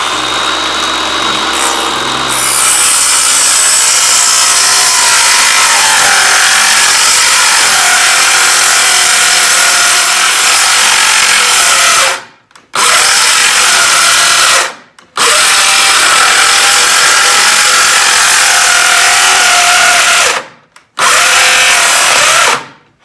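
A power saw cuts through wood while trimming the ends of an upcycled pedestal coffee table, a loud sustained buzzing whine broken by a few abrupt stops and restarts, close with no talk.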